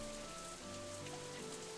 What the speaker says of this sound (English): That is just getting soaked in rain.